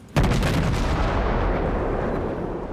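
Naval gunfire in World of Warships as a heavy cruiser battle plays out: a sudden loud artillery boom followed by a long, dense rumbling roar that fades slowly, with no talking.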